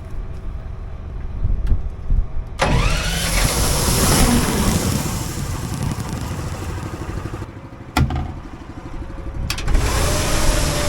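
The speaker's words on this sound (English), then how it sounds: "I'll just pull the tractor ahead a little bit and then back it up." A mid-pitched tractor engine idles and revs nearby in a farm field, with a loud clunk, a brief pause, then the engine rumbling on again.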